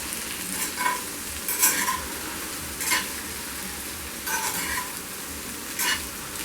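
Okra stir-fried over a medium flame, a steady soft sizzle with periodic scraping stirs roughly every second or so, close and moderately quiet, with no talking.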